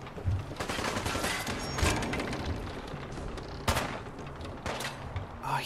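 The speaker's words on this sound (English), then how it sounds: "Where are they shooting me from, dude?" Gunfire rattles through a firefight in the video game Fallout 4: Far Harbor, with dense bursts of shots and a few sharper reports over a constant noisy backdrop.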